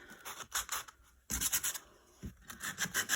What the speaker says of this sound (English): So we're going to sand all this off here.